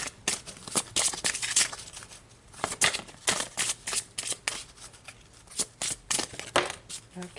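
Tarot cards being shuffled in steady riffling bursts, crisp papery flutters and snaps repeating close up for several seconds with no talk over them.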